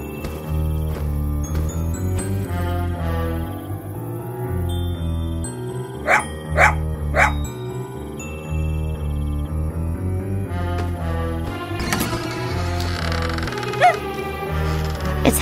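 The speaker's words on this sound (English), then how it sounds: "Why Max is barking" Cartoon dog barking amid loud background music, with a few sharp barks standing out around the middle of the stretch and more near the end.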